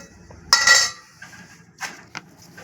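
A metal lid goes onto a kitchen pot of dal with one sharp clatter, followed by a couple of lighter clinks of metal cookware.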